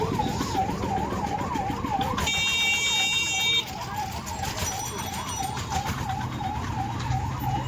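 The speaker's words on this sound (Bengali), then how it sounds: "অ্যাম্বুলেন্স যাচ্ছে, পড়া খাচ্ছে, প্রচণ্ড জ্যাম হয়েছে" An ambulance siren wails steadily in rising and falling cycles, loud and close, over engine rumble and a blaring horn amid a dense, smoky market traffic jam.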